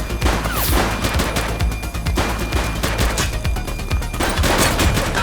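A suspect fires in the video game The Precinct, producing loud, dense bursts of automatic gunfire that rattle almost without pause, with sharp cracks standing out and no talking.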